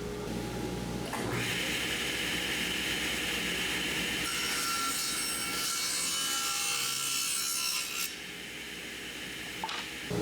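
Continuous rasping saw cut through a stack of four cedar fence pickets, loud and close, grinding steadily for about seven seconds before the blade winds down.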